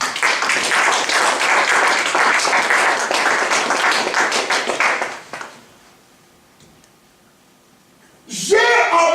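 A church congregation at a Sunday sermon claps and cheers in praise, a dense, loud burst of applause for about five seconds that fades to near silence before a voice resumes.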